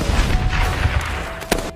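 Gunfire in an action film scene, loud and close: a muffled burst of shots followed by a single sharp report near the end.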